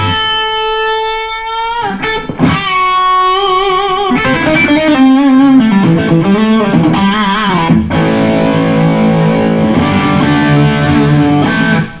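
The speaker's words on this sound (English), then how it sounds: "Break up to the verge of distortion." An electric guitar through a Blackstar Dept 10 amp, driven to the edge of breakup. A string of loud, close chords and ringing notes with gritty sustain and some wavering bends, playing for several seconds without any talking.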